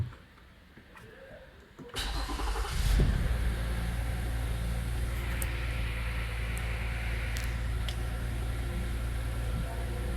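A Toyota Avalon with a random engine misfire cranks and starts after a quiet opening, then settles into a steady, close idle with a constant low rumble.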